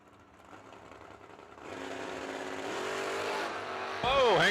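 A Chevrolet Malibu race car at a drag racing event, engine revving and rising in pitch, building louder toward a sharp high whine at the end.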